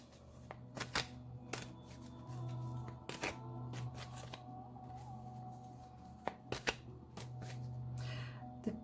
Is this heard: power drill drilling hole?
no